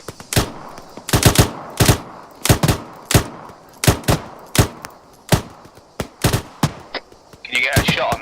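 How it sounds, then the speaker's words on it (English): Rapid bursts of automatic gunfire in the ArmA 3 military simulation game, about a dozen sharp loud cracks in quick clusters across the clip, with a brief hiss of other noise near the end. "Delta rapid fire southwest."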